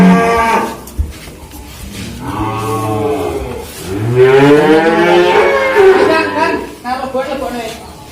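A young Simmental bull, about six months old, gives several loud, drawn-out moos close by, with a long rising bellow in the middle and shorter calls at either end.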